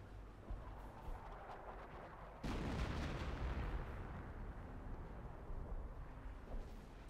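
An artillery smoke barrage lands in the Company of Heroes video game, a heavy, rumbling boom that strikes suddenly and rolls on as a loud, dense wash over a steady battlefield din, with no talking.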